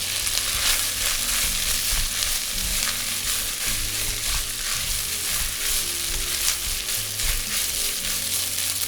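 Raw rice toasting in a thin film of oil in a pan, a steady close sizzle and crackle with soft stirring scrapes throughout and no talking.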